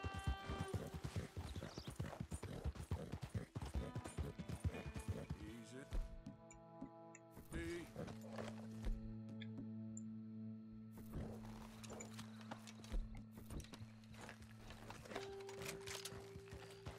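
Horse hooves in Red Dead Redemption 2 clip-clop in a fast, regular galloping rhythm up close, then ease off as game music and ambience carry on, with someone talking over it in Spanish.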